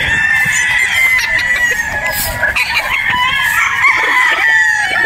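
A Boston Roundhead broodstag rooster crows and clucks continuously, loud and close, in a busy farmyard with no voices.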